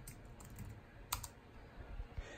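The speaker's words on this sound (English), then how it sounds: "Typing with one hand is quite an experience." Soft, uneven key taps from someone typing one-handed on a computer keyboard, with a single sharper click midway, faint and close in a quiet room.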